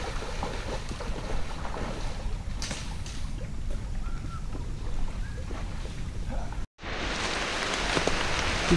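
Rain falling in a jungle on an afternoon, a steady broadband hiss of drops on foliage and ground, continuous and fairly close, with a brief dropout near the end before the downpour resumes louder.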